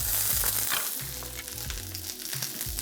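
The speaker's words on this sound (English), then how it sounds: "Then add the oil and then now stir fry your onion and the curry powder." Onion and curry powder stir-fry in hot oil in a wok with a loud, continuous close sizzle. Rhythmic scraping and tossing strokes of the spatula run through it, and no one talks.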